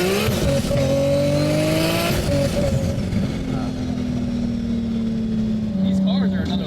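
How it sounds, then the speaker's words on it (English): A 1600HP Nissan Skyline GTR with a built 3.6L RB engine screams at high revs while spinning its wheels on cold tires, loud and close from inside the cabin, with pitch rising and falling as gears change. "Tires are a bit cold, so I'm spinning the wheels."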